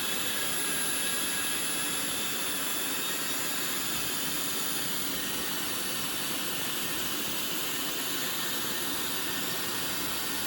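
Strong wind of about 32 miles an hour roars steadily outdoors as a broad, loud continuous rush with gusty buffeting throughout, no talk.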